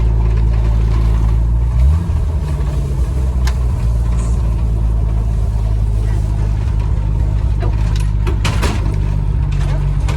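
A 1966 Ford Falcon Travel Wagon Turtle Top van running close by, its engine a loud, steady low drone that shifts in pitch near the start, with indistinct voices in the background.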